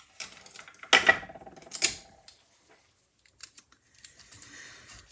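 Tape is pulled and pressed down onto a paper panel during a stamping card-making class, giving two sharp crackling bursts followed by faint scattered ticks and rustles, close and quiet with no talking.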